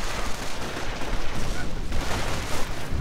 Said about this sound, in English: More mortar rounds from that mortar half-track so far, not really managing to hit anything.